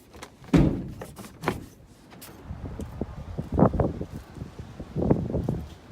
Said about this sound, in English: Just pop the hood.